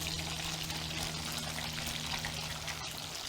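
Steady, dense sizzling hiss of tofu frying in a pan, constant and close, with a low hum underneath.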